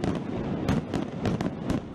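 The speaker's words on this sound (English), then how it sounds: "Fireworks lit up the Rio sky." Fireworks bursting over Rio after the World Cup final, a rapid dense barrage of cracks and booms with crowd noise underneath, no clear talk.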